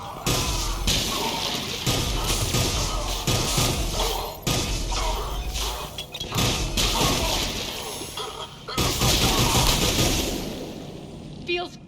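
Dense gunfire and impact thuds during a firefight in Mass Effect Legendary Edition on the Omega skyline, loud and continuous with crashing hits, while voices talk over it.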